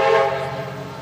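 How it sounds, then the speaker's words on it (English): Loud, sustained rumbling roar with a whistle-like tonal edge that resembles a passing train, close and steady, then easing slightly, with no speech over it. "whoa, that sounded like a train, didn't it?"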